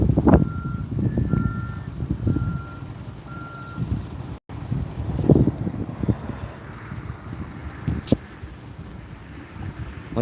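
A truck's reversing alarm beeps in a steady repeated pattern early on, heard outdoors over wind buffeting the microphone and low rumbling vehicle noise.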